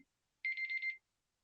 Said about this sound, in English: My timer went off for me to go and take out my trash.